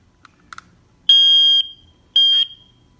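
A smoke detector emits two loud, piercing electronic beeps of about half a second each, separated by a short pause, as its hush button is held down to drain the remaining charge; faint clicks come just before.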